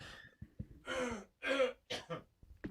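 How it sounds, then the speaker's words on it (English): A person coughs and clears their throat several times in short, close bursts, with brief breathy gaps between them. "Excuse me for my coughing."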